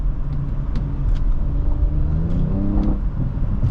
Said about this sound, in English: we got some crackles in the back